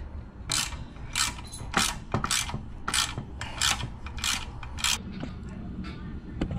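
A button bolt is driven into the hard aluminum casing of a Coleman CC100X 3 hp engine, giving a close run of rhythmic ratcheting, rasping turns repeated about a dozen times with no talk.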